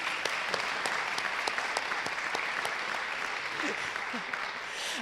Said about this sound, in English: Let's give another hand of applause for them.